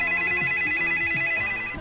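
A telephone rings with a loud, steady electronic ringtone that repeats its tones without pause, close by, with faint low background sounds underneath.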